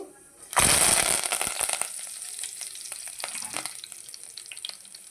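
Cumin seeds and curry leaves hitting hot oil in a pan burst into a loud crackling sizzle after a short quiet start, then settle into steady spitting with scattered pops and stirring scrapes.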